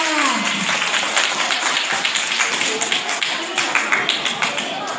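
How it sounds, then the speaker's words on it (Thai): A Thai school class claps for a student group after its presentation, a dense, steady patter of many hands close by that continues through the whole stretch. "ขอเสียงปรบมือให้กลุ่มไลฟ์สหายันค่ะ"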